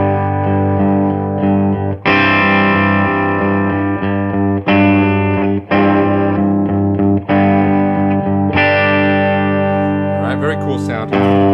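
A Squier Telecaster electric guitar on its bridge pickup rings out a series of strummed chords, each left to sustain for a second or two before the next, bright and loud with a slightly driven, effected tone.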